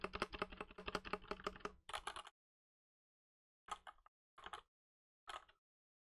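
Spacebar on a Redragon K630 mechanical keyboard is pressed repeatedly, first in a rapid run of close, crisp clacks, then a few isolated single presses separated by silence.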